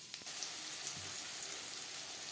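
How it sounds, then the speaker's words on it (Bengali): Whole cumin seeds sizzle in hot oil in a wok that was just used to fry fish, giving a steady, fine, crackling hiss that holds level for the whole moment, close and fairly quiet, with no one talking. "ফোড়নে দিয়ে দিলাম গোটা জিরে।"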